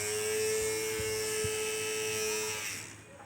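Small electric fans from a school science project, one mains-powered and one battery-powered, run at a school carnival with a steady whirring motor hum and a high whine that fades out near the end.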